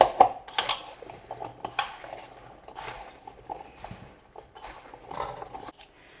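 Vegetables are tossed with a spice mix in a metal tin, giving intermittent clattering scrapes and soft knocks in irregular bursts, close but fairly quiet.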